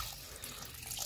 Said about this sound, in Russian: Сейчас еще немножко залью вот эту всю воду.